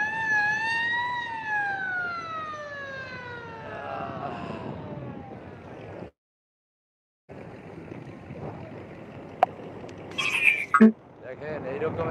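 A ship's horn sounds on the water to clear the way, with long falling horn tones in the first half that drop out briefly, then engine and water noise with sharp bursts near the end, under a faint voice.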